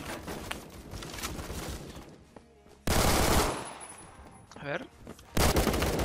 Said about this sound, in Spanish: le pegué un tirito en la frente